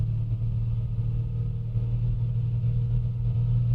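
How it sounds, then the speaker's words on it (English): The piston engine of a Piper Comanche 250 in the A2A flight simulator runs roughly and choppily, a steady low droning rumble with a pulsing, uneven texture and no speech. "Engine sounds choppy."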